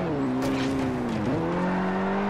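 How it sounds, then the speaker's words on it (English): Car tyres skid and squeal in the Forza Horizon racing game, a loud close engine drone with a sliding pitch that dips and recovers through a brief braking slide, no voices. "Oh, too much skidding there."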